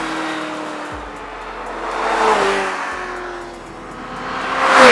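A Ferrari F355 GTS with a roughly 400-horsepower engine revs and accelerates, its tone rising and falling through gear changes in a loud, continuous run that swells again at the end, with no talk.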